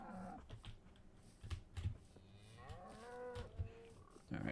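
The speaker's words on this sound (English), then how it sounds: "Oh, a bunch of cows." Several Minecraft cows moo faintly in the distance. Their low, drawn-out calls rise and fall over soft keyboard tapping.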